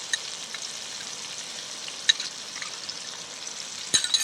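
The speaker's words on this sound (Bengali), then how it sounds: "খুব ভালো করে নেড়ে চেড়ে নেবো যাতে আদা রসুনের কাঁচা গন্ধটা কেটে যায়" Ginger-garlic paste and melted tomato fry steadily in a pan, a soft continuous sizzle with a few faint stirring scrapes and clicks, near and alone.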